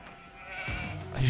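Sheep bleat in the Age of Empires 2 HD strategy game, set in a free-for-all match as the Turks, with a short wavering call rising near the end over quiet game ambience and a faint voice.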